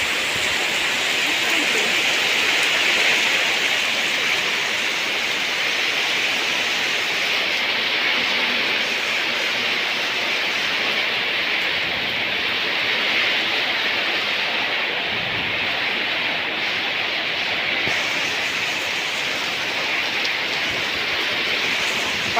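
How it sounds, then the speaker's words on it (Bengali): A Kalbaishakhi storm lashes a village with heavy rain and wind, a dense continuous roar of rainfall that stays loud and steady. "প্রচুর ঝড়"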